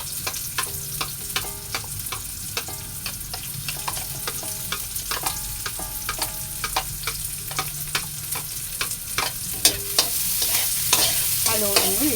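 Onion sautéing in a hot pan for ginisang sayote with sotanghon, a loud continuous sizzle with repeated sharp scraping strokes of a spatula stirring throughout, close up and without voices.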